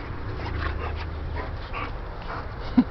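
A dog whimpers and pants close by in a low, continuous, breathy stream, ending with a couple of short sharp yips or barks.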